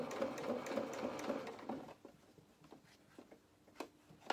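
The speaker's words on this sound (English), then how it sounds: "Just try and keep your top stitching as straight as you can" A sewing machine runs steadily for about two seconds, top stitching a seam along fabric, then stops, leaving faint scattered clicks and handling noises close by.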